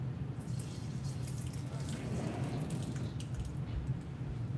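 Tap water runs steadily into a sink while an old food dish from an outdoor insect or moss setup is washed out, a constant low rushing flow heard close and alone.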